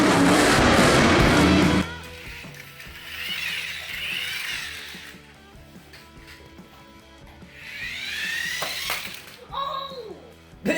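A Spin Master Monster Jam remote-control monster truck toy crashes, with a burst of harsh clattering impact noise followed by whirring electric motor and gear sounds, with people talking excitedly.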